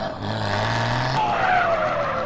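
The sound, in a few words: truck engine sound mod in SAMP video game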